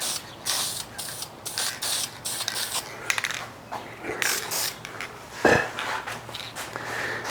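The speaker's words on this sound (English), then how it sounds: "So I'm just doing a really light, misty coat on those edges." A spray can lays a light, misty coat of Metalcast paint onto the edges of a piece in short, hissing bursts mixed with clicks and handling noises, fairly close.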